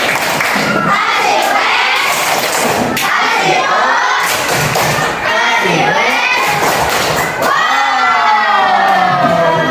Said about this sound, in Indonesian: Baik, kasih tepuk tangan yang meriah